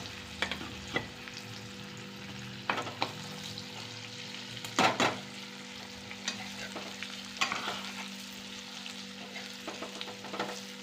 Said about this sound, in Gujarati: ભરેલ ભીંડાનું શાક વઘાર થઈ ગયો છે મસ્ત મજાનો હવે આને ધીમે ગેસે ચડવા દેવાનું